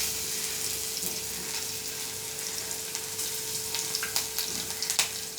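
Crushed garlic hits hot oil for a dry potato bhaji and sizzles steadily, with sharper crackles and pops building toward the end; no one speaks.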